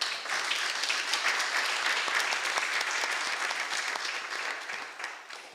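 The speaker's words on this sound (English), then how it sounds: "I would like to extend a very warm applause to you" An audience at a city commission meeting gives warm applause. The clapping is dense and sustained, with no talk over it, and it tapers off over the last second.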